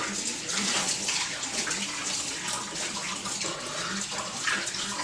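Water poured from a pan into several canning jars, a steady splashing trickle running close and continuous with no talking.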